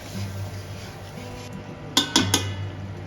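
A metal lid is lifted off a pot of simmering methi chicken, giving a few quick clinks and scrapes of metal against metal close by over a quiet background hum.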